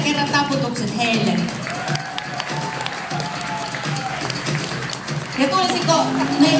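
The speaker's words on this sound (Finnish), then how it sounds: "Vielä kerran taputukset heille." Audience applause and cheering at a Finnish caregivers' association 15th anniversary celebration, a steady dense wash of clapping and crowd noise lasting throughout with voices mixed in.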